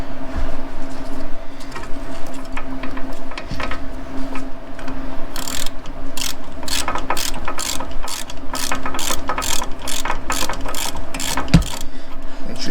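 A hand ratchet loosens the brake caliper mount bolts on a Honda Civic. A low steady hum comes first, then a long run of rapid, sharp clicking strokes close by in the second half.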